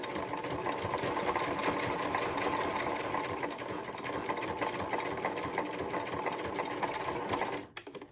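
A sewing machine stitches a leather crossbody bag in a close, continuous rapid chatter that runs for about seven and a half seconds before stopping abruptly, followed by a few faint handling sounds.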